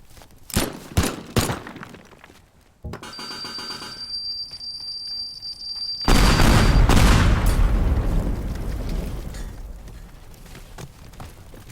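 Gunfire in the video game Teardown: a burst of rapid shots, then a sustained loud blast with crackling debris that slowly fades, preceded by a few sharp isolated bangs.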